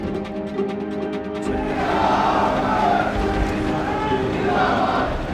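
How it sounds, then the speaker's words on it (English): A crowd of lawyers from northern Punjab at a political gathering chants and shouts together, a loud rising roar of massed voices after a quieter opening with a tonal hum beneath. "This crowd are lawyers from northern Punjab."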